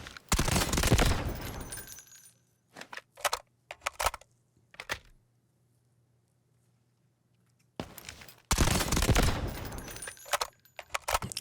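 Automatic gunfire in the shooter game Delta Force, loud bursts of rapid shots clustered at the start and end with scattered single shots between and a quiet gap in the middle.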